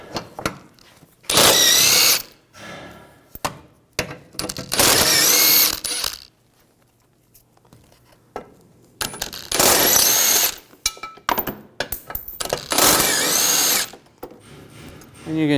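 A power tool, likely an impact driver or drill with a 16mm socket, spins out four bolts on a 2011-2018 Volkswagen Jetta. Loud whirring bursts are separated by pauses, with ratcheting clicks between them.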